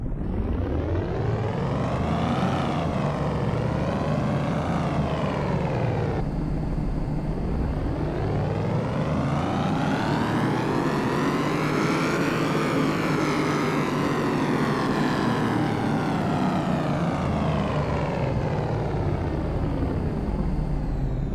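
Porsche 918 V8 engine, fitted with a modified transmission and ignition coils, revving hard on a dyno pull; a loud, sustained rising and falling harmonic roar fills the stretch, with several climbs and drops in pitch and no talk over it.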